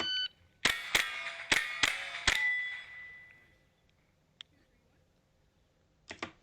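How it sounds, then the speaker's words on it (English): Shot timer beeps during playback of shooting video, a run of five sharp ringing tones in quick succession followed by fainter clicks and a brief burst near the end. "So I could barely hear the shot timer call out"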